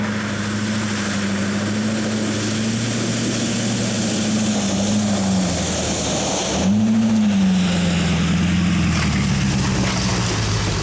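A heavy Novator armored vehicle drives off-road, its engine droning loud and steady with a rising and falling pitch, a brief dip midway before it pulls again, and no speech over it.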